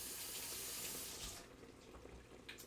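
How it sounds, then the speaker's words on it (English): An immersion blender is rinsed under a running kitchen tap, water splashing steadily and close, then the flow changes and softens into quieter sink splashes. "so I'm gonna wash off the immersion blender"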